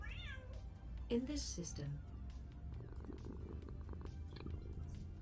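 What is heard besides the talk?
cat meowing and purring in a video game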